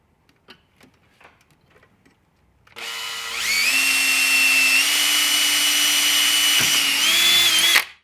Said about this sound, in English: 7/64 drill bit.